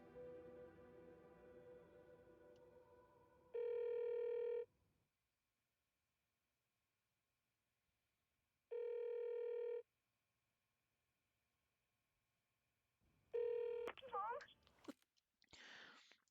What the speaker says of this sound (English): the phone just kept ringing